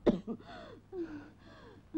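A man in the 1983 Hindi film Bekaraar coughs hoarsely in a short burst, followed by strained, wheezy breaths suggesting an asthmatic fit, close and fairly quiet, with no speech.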